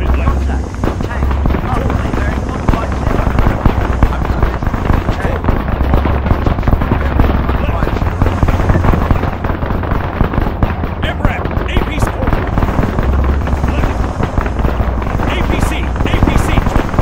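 A military helicopter in a combat video game with tanks rotors and thumps steadily through a dense, continuous din of gunfire and explosions across the whole stretch.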